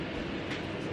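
Interior of a train sitting at a station, a steady low rumbling hum with faint ambient noise, no distinct events.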